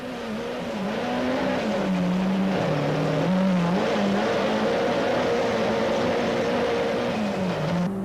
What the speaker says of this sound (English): Just how hard they work is clearly shown in this great in-car shot of Cassie Coetzee's cockpit